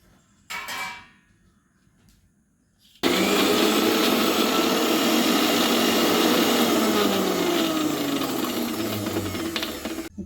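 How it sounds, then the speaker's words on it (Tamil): A mixer grinder whirs loudly and continuously while grinding mudakkathan greens, after a brief earlier burst and a short quiet stretch, with the motor pitch shifting slightly as it runs. "இப்போ இது மாதிரி அரைச்சி எடுத்துக்கிட்டேன்"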